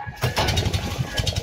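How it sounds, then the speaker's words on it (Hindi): A boat engine on the Ganges sputters to life and settles into a steady, loud low chugging drone, close by, with no talk over it. "ये स्टार्ट किया इन्होंने इंजन"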